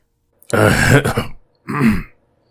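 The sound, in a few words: voice imitating a cough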